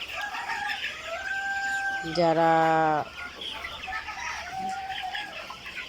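Egyptian Fayoumi chickens at a farm cluck and call, then one rooster gives a loud, clear crow midway before the clucking resumes. A person speaks briefly.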